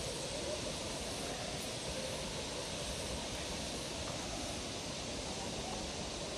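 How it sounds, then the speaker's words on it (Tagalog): Steady, distant rushing water from Hulugan Falls in Laguna, a 90-meter waterfall, forms a constant broadband roar without breaks or voices. "naririnig ko na yung agos ng tubig"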